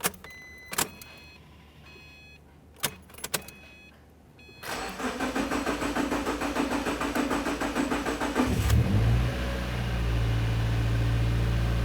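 A few sharp clicks, then a 2012-2016 Subaru Impreza engine cranks and catches at about five seconds after a fuel pump replacement, running at a steady idle before the revs settle lower and smoother.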